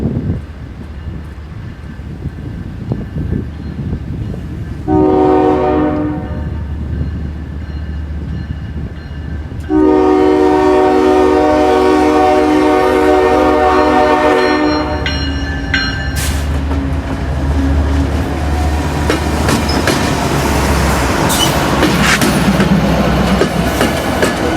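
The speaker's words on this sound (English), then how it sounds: "Here we would see UP 7849 take the connection on point of an Autorat train." Union Pacific 7849 leads an autorack train through Chicago's East Side, its horn giving a short blast and then a longer sustained one over the loud rumble and clatter of the passing train.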